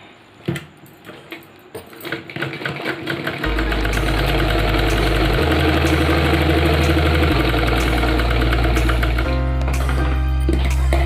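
An electric sewing machine stitching fabric for a pair of pants, starting with a few scattered clicks and then running as a loud, continuous motor whir whose pitch shifts a few times, with no voices.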